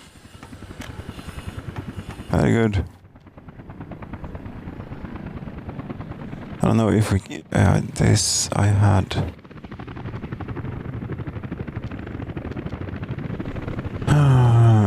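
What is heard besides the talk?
helicopters carrying concrete in Workers & Resources: Soviet Republic video game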